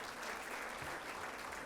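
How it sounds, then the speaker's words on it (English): Audience applauding an International Women of Courage awardee at a women, peace and security event, a steady, dense wash of clapping throughout at moderate distance. "please give her a round of applause"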